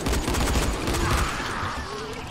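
Rapid gunfire in the zombie survival video game Dying Light, a dense, steady volley of shots filling the whole stretch at close range with a voice faintly underneath.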